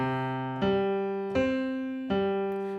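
Piano playing a repeated chord pattern, three struck chords spaced evenly, each ringing and fading before the next, close and clear with no voices.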